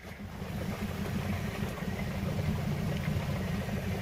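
A vehicle engine kept idling while the car sits stuck in deep water, a low steady rumble with a soft watery wash over it, fairly quiet and continuous throughout.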